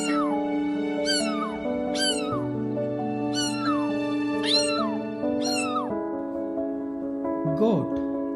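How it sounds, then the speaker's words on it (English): A domestic cat meows repeatedly, about six clear rising-falling meows at a steady pace, close and loud over a sustained musical background. "A cat meows. Let's hear how cat meows."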